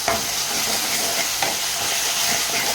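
Chicken curry masala paste fries in a kadai over a full gas flame, a dense continuous sizzle and hiss with occasional scraping stirs of a spoon.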